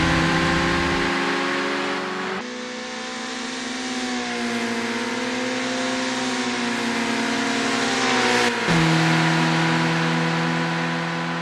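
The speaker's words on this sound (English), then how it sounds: "Smells Like Wee's engine is churning to get past Sunrider" Kei cars race around Tsukuba Circuit in Assetto Corsa, a steady, loud engine drone that rises and falls through gear changes, with clear shift breaks, holding on its own without talk throughout.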